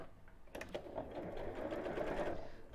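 A sewing machine stitches a bamboo-handled fabric bag in a steady, fast mechanical whir that starts after a short pause, running close and fairly quiet without a break.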